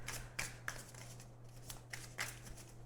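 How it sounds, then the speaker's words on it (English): Oracle cards being shuffled by hand, a few quick papery riffles and flicks in close, irregular bursts over a low steady hum, with no talking. "while I'm shuffling"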